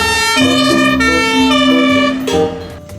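A red toy fire truck plays a loud electronic siren of steady, sustained tones that shift pitch in steps, close up and continuous for about three seconds with no talking.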